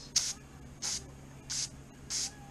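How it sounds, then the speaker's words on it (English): Carburetor cleaner sprayed from a can nozzle into carburetor holes, four short sharp hissing squirts spaced evenly about two-thirds of a second apart, close up in a quiet room. "You'll get a can of carburetor cleaner, and there's a hole right there, and you'll stick this nozzle up to that hole."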